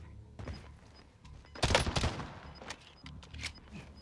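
Bursts of AN-94 rifle fire in the video game Call of Duty Warzone, several short volleys with a loud dense cluster in the middle, set against in-game ambience.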